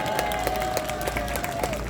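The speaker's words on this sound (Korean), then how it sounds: "다시 한번 박수 부탁드립니다, 여러분." Dense crowd applause at a large youth rally in Korea, a continuous wash of clapping with scattered sharp claps, moderately loud, with a sustained tone running beneath it.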